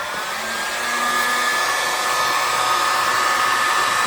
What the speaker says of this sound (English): get your heat gun ready